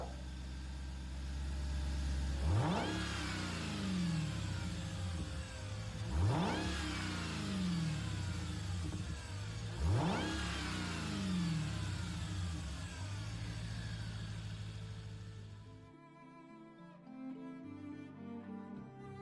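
Challenger SRT Demon engine swapped into a Dodge Super Bee in Gran Turismo 7, three sharp revs rising and falling in an even rhythm, loud and close, then settling to a lower, steadier engine tone at the end.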